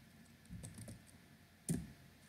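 Brief bursts of computer keyboard typing while writing code for a Unity game, a few soft clustered keystrokes followed by one sharper, louder tap, fairly close and with no talking.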